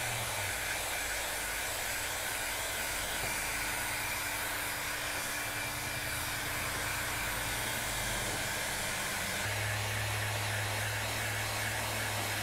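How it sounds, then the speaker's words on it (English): A heat gun set near maximum blows hot air onto the wrap of a vintage Ludwig/Rogers drum to loosen the old glue, a constant loud rushing whir with a slight change in pitch partway through and no talk. "take the heat gun. I cranked it to about the max."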